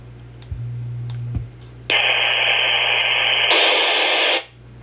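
TYT TH-UV88 dual band handheld radio opening up as a repeater is tripped: short clicks and a low tone, then a loud steady burst of hissing static that shifts partway through and cuts off abruptly.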